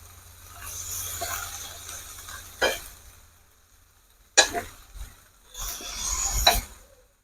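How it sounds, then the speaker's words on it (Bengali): Potato, beans and eggplant frying in a pan, a steady broadband sizzle with stirring bursts and sharp scrapes of a utensil against the pan, no talking. "দেখো বন্ধুরা আমি আলুটাকে ভেজে নিচ্ছি"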